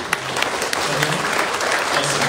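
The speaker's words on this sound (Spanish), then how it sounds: "Un fuerte aplauso" A congregation applauds during a Mexican All Saints' Day Mass, a full continuous wash of clapping under a faint murmur of voices, fairly loud and close, holding steady from start to finish.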